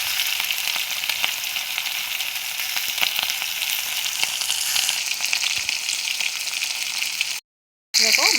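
Large fish pieces frying in smoking-hot oil, a dense continuous sizzle close and loud, cutting out briefly near the end before resuming.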